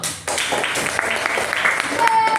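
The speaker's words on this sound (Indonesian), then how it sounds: "Oke, tepuk tangan dulu." Students applaud together in a classroom group guidance session, a dense, steady patter of clapping that starts abruptly and carries on evenly to the end.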